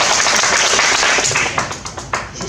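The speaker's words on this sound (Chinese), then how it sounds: "大家鼓掌通过" Meeting attendees of a volunteer police association board session in a conference room applaud to approve a motion, a dense steady burst of clapping that thins into a few scattered claps near the end.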